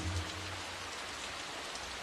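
Steady rain falls in a television drama scene, a dense, even hiss filling the whole stretch at moderate level with no voices and no distinct drops standing out.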